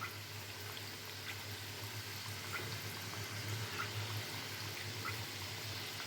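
Gujiya frying in hot oil over a low-to-medium flame, a steady soft bubbling and crackle holding even throughout with no voices.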